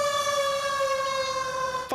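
A fire engine siren sounds a loud, steady wail, holding one pitch with strong overtones, before cutting off abruptly at the end.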